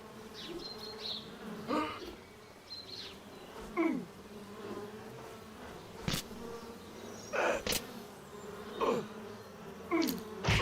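Bees buzz in the video game Chop Chop Inc, a steady insect drone with several sharper swells and clicks recurring every second or two, moderately loud and with no talk.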